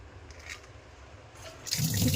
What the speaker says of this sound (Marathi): पाणी असं प्रेशरने इकडे येते, पण मला उंच हवं आहे